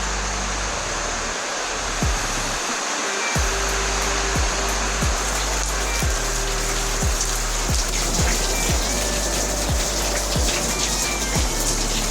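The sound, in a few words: rain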